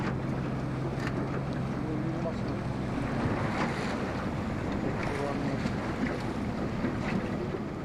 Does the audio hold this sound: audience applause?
no